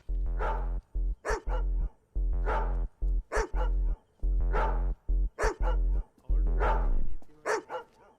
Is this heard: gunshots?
no